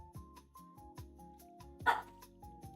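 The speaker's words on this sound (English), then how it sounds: "Why are you doing big girl bark?" A dog gives a run of short, fairly faint barks at a steady rhythm, with one sharper, louder bark partway through, heard alone without talk.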